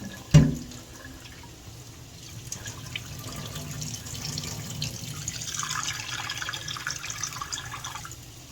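Cold tap water runs over cooked noodles in a drainage pot for a chicken Alfredo, opening with a sharp clunk and followed by a steady, moderate splashing stream.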